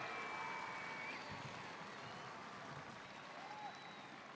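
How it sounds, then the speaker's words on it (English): Faint, steady crowd applause and cheering fill a stadium at a premiership parade celebration for the Penrith Panthers, heard distantly as a continuous wash with a few whistles. "give yourselves a round of applause, Penrith"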